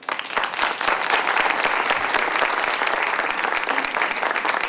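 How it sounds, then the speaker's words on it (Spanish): Audience at a book presentation applauds a teacher being introduced, with many hands clapping in a dense, sustained round that rises quickly and stays steady and fairly close. "les pido un aplauso para la maestra Marcela Falcó"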